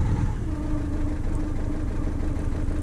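A Ford Fiesta 1.4 TDCi diesel with a faulty injector idles roughly, a steady low engine drone with an uneven, shaky undertone, heard up close with no one talking.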